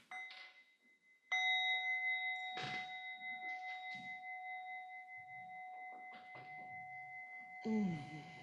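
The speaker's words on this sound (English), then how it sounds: "with this first bell, preparing your body to stand" Meditation bell struck once with a sharp clear ding, leaving a long, steady ringing tone that fades slowly in a quiet room, with a few soft thumps and rustles along with the ring and a second strike near the end.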